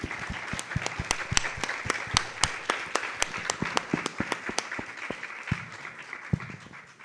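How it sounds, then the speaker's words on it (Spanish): An audience at a talk on indigenous issues claps in a crisp, fairly sparse applause, with individual sharp claps standing out in an even rhythm over about seven seconds and no talk. "les pediría nada más como un fuerte aplauso para ella"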